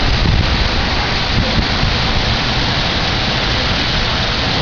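Steady, heavy rain falls at the Fortaleza beachfront along Avenida Beira-Mar, a dense, even hiss that fills the scene with no talking over it.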